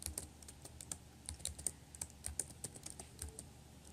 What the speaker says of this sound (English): So here I'm typing in my code,